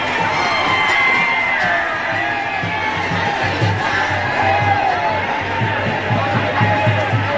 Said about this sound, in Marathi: बघा खूप म्हणजे खूप गर्दी आहे.